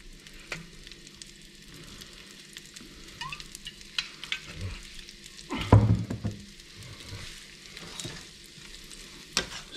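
Ingredients for pasta e fagioli fry in olive oil with oregano in a pot: a continuous sizzle broken by a spoon scraping and knocking against the metal as the mix is stirred, with a louder clatter midway.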